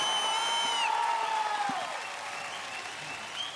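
Studio audience applause on a televised singing talent show, a dense wash of clapping under a sustained sung or musical tone that fades out, with a faint voice near the end.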